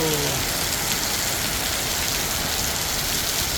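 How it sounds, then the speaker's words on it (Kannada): Heavy, steady rain pours down throughout in Bangalore, a dense continuous hiss with no pauses and no voices. "ಮಳೆ ಧಾರಾಕಾರವಾಗಿ ಬೀಳ್ತಾ ಇದೆ"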